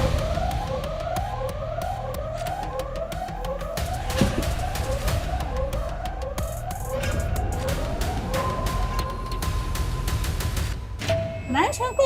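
An alarm siren wails in a repeating rising-and-falling cycle during a staged mystery-solving game show. It is loud and continuous, with people talking over it, and it cuts off near the end.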